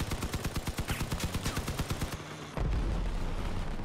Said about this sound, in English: Get some shots on these guys here.